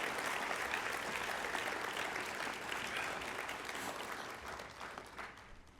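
Audience applause at a city awards ceremony, a continuous wash of many hands clapping, moderately distant and gradually thinning toward the end, with no talk over it.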